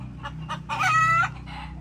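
Gamecock farm chickens: a short burst of clucking and a rooster-like call, close and fairly loud, with a steady low hum underneath.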